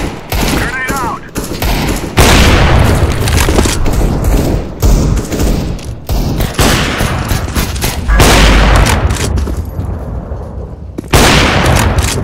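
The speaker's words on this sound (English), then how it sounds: "Grenade out." Explosive booms and bursts of gunfire from a Counter-Strike: Global Offensive competitive match, loud and dense throughout with heavy low thumps, under voices talking.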